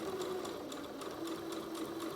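A sewing machine back tacking at the top of a concealed zip hums in a steady, close, continuous whir with rapid needle ticking throughout, alone without talk.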